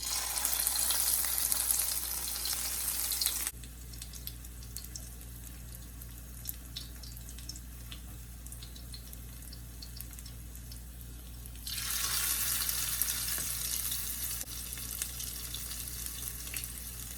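Cabbage fritters sizzling in a pan as a small test batch fries, a steady crackling hiss that is loud at first, settles quieter for several seconds, then swells again near the end.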